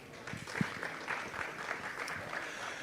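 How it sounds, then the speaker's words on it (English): Audience at a conference talk applauding, a short burst of scattered clapping at moderate distance lasting a few seconds, no voices. "So everyone, please give Phil a round of applause for his presentation today"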